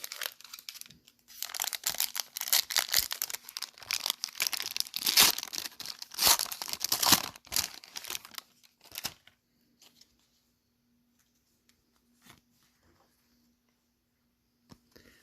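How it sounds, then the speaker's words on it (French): Crinkling, tearing wrapper of a Magic: The Gathering Kamigawa Neon Dynasty booster pack, dense close rustling bursts for about nine seconds, then near silence with a few faint isolated ticks. "on va ouvrir l'autre paquet"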